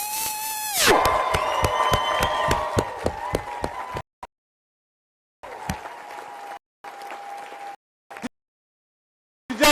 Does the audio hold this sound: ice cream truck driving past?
no